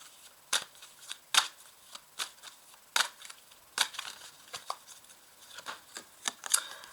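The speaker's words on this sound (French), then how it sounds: "Alors je vais rajouter une carte dessus." Tarot cards handled and laid out on a table, making soft slaps and snaps at an uneven pace, close and quiet.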